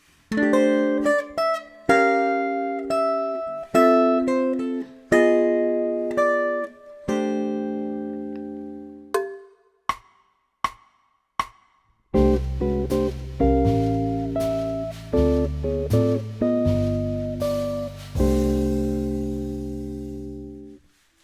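A clean electric jazz guitar plays a slow 1-6-2-5 chord sequence resolving to C6/9, ringing chords and single notes, each strum sustaining before the next, with a brief pause midway.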